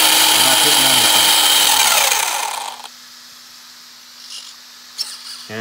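Electric motor of a ZD Racing RC buggy with a broken axle revving as its wheels spin, a loud high whine that winds down over a couple of seconds, then quiet with faint clicks and a short hum.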